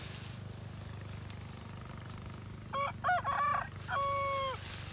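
A rooster in the Philippine countryside crows twice, loud and fairly close, the first call broken into choppy bursts and the second a long sustained note, over a steady low rural background hum.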